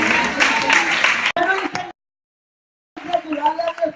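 A burst of church congregation applause and clapping, cut off abruptly, then a short silence before the noise returns.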